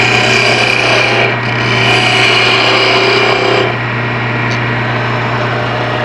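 A small bowl gouge cuts a wooden piece spinning on a lathe, giving a steady, close rasping scrape over a constant motor hum that eases slightly after a few seconds.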